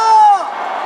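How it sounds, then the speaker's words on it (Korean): A crowd at a Save Korea national emergency prayer rally in Daejeon lets out a brief, loud sustained shout that breaks into a broad roar of voices, all within under a second. "여러분 함성 부탁합니다"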